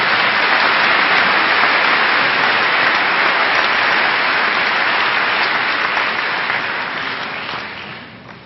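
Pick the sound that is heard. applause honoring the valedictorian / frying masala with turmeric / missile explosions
applause honoring the valedictorian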